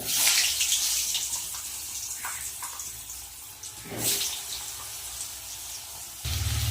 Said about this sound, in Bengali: আলু তো দিয়ে দিয়েছি তেলের মধ্যে